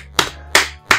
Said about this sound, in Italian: Applauso proprio